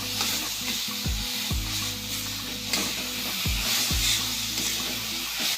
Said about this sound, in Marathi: आता आपण त्याच्यामध्ये आलं लसूणची पेस्ट घालून घेऊया आणि व्यवस्थित मिक्स करून घेऊया